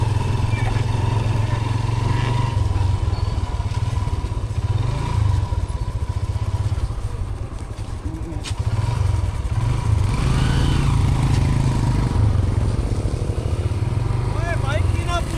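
A motorcycle engine runs steadily on a bridge over snowy ground, a continuous low rumble with occasional clatter and thuds, fairly loud and close throughout.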